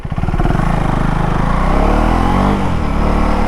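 A KTM Duke 390 motorcycle engine in rain mode revs close and loud with a steady, throbbing drone, swelling briefly partway through, with no voices.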